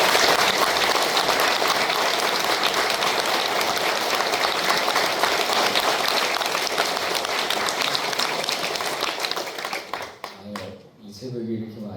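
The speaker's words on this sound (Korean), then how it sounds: "오늘 우리 김한원 목사님 나와서 말씀 증거해 주실 때 박수로 환영해 주시기 바랍니다." A large congregation at an early-morning special prayer service in a church applauds loudly and continuously. The clapping is dense and sustained before it thins and fades near the end.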